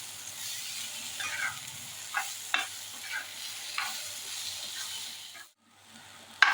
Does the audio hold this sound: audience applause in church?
no